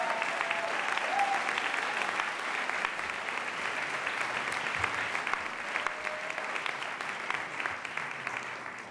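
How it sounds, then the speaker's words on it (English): Sustained applause from a commencement audience at a public policy school graduation ceremony, a steady dense wash of many hands clapping at moderate level throughout, with no talk over it. "let's have a round of applause for the families, friends, spouses, children,"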